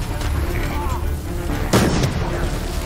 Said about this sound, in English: Stay out of the way of that machine gun.